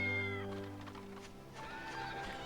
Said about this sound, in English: Ooh, kitty cat?